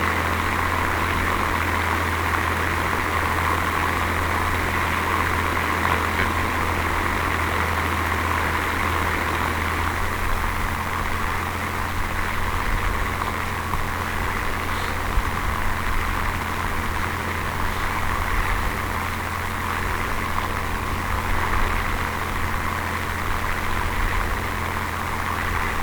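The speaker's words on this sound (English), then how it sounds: "Speeds dropping tremendously with engine damage" A damaged vehicle engine in a video game drones as a steady, loud, unbroken hum with a low rumble, continuous for the whole stretch without pauses or talk.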